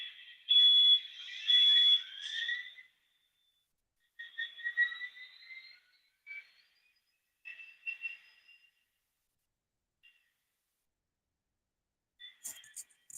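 Electronic startup chirps and tones from the sound decoder of an Athearn F59PHI HO-scale model locomotive, heard as short bursts of high beeps and whistle-like sweeps separated by quiet pauses.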